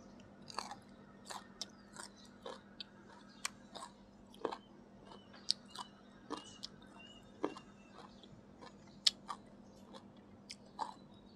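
Crunchy pickled green mango is chewed close to the microphone, with sharp crisp crunches at an irregular pace, roughly one every second, against a quiet background hum.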